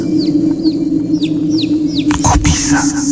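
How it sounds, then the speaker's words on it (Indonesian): A chicken clucks in a quick series of sharp, rising calls over a steady low hum, followed by a couple of louder rustling knocks. "Ayam."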